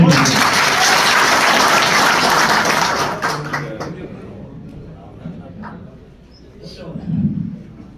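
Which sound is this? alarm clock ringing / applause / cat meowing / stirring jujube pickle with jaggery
applause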